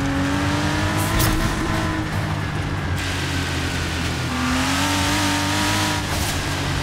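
A Porsche RWB with a boxer engine in the video game Forza Horizon 4 revs loudly and continuously close up, its pitch rising and falling through gear changes with no talk.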